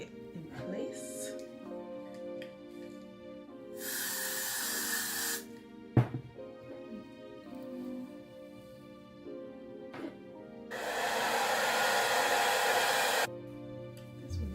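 Hairspray is sprayed to set a wig in place: two bursts of hissing aerosol, one of about two seconds and a longer one of about three, close to the mic, between stretches of quiet talking.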